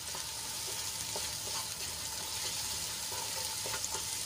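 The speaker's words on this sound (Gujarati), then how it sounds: "ડુંગળીને આપણે ઢાંકીને સંતળાવા દઈશું" Onions sautéing in a covered pan give a steady, even sizzle and crackle throughout, close and continuous with no talking.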